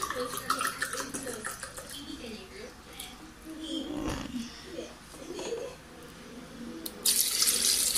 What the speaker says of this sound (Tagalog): Lalagay muna ako ng water.